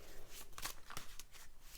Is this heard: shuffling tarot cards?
yes